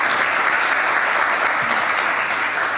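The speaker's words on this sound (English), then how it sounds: "One more round of applause for our great panelists here." Sustained applause from a conference audience after a panel session on cross-regional cooperation, a dense, steady wash of clapping that holds at an even level throughout, with no voices rising above it.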